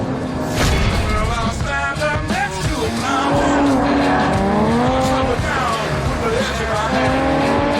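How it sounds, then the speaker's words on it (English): A supercharged 375-horsepower Jaguar F-Type sports car drives hard, its loud engine note rising and falling through the gears with some tyre noise, while someone talks over it. "engine is supercharged and delivers 375 fire-spitting horsepowers"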